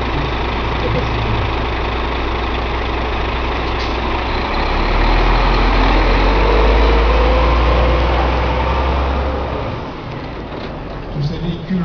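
A fire brigade tanker truck idles at a firefighters' parade in Velaux, a loud, steady low engine rumble that swells midway, with someone talking over it.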